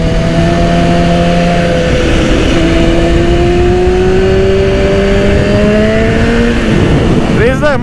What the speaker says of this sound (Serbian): Zvuk na ovom motoru je brutalan